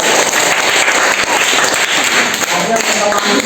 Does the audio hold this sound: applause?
yes